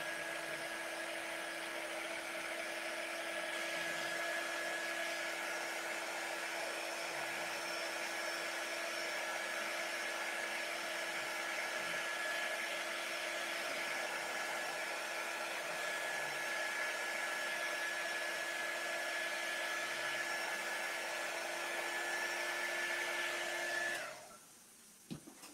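A hair dryer runs steadily on high, drying wet chalk paste, a loud constant whirring hum with a fixed whine that cuts off abruptly at the end.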